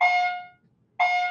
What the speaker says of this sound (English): We have an alarm, an accidental alarm.